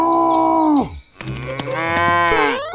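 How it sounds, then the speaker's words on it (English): Cows moo loudly and close by, one long drawn-out low call followed after a brief gap by another, longer moo that rises in pitch. "Cows are destroying Elsa's flower garden"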